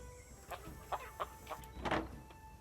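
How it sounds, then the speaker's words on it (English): Hen in a chicken coop on a ranch in the Nancy Drew video game, giving a series of soft, short clucks spaced irregularly over a faint steady background hum. "don't take this chicken's eggs when she's there"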